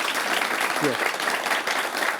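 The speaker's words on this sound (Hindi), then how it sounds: "एक बार जोरदार तालियों के साथ" Loud audience applause at a Vishwakarma scheme event on skill recognition, a dense steady wash of clapping filling the whole moment from start to finish.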